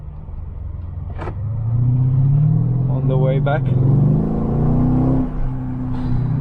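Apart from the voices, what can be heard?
V8 car engine revving while cornering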